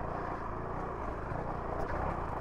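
A Honda CRF450RL dual sport motorcycle crawls at low speed over rocks, its engine a faint, continuous rumble with uneven throttle blips.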